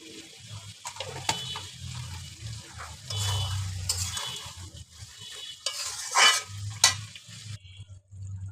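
Stem vegetable curry with dried shrimp and spice powder is stirred and fried in a pan, with intermittent scraping strokes and clatter over a low sizzle, rising and falling in loudness.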